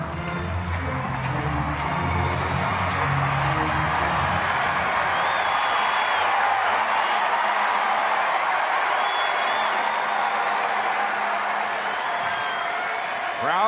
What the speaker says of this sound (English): Crowd rising up here